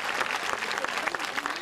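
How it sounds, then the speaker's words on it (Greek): Audience applause at a Greek community evening event for the Feast of Saint Panteleimon, a steady dense clapping filling the whole moment, moderately loud with some mixed voices underneath. "ένα χειροκρότημα"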